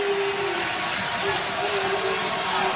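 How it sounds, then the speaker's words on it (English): Crowd noise in a Providence basketball arena during an NCAA tournament second-round game between St. John's and Arkansas: a steady, dense roar of fans cheering throughout, with a faint tonal whistle-like line beneath. "And you hear the crowd getting behind the Johnnies here in Providence."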